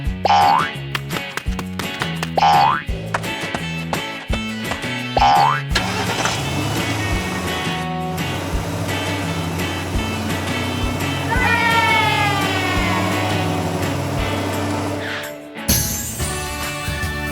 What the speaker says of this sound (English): The whole family quickly got ready, hopped into the car, and set off.